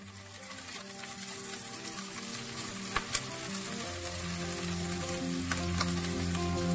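Chillies with a bay leaf and crushed ginger sizzle steadily in a hot pan, a continuous close frying hiss with a few sharp pops, no voices.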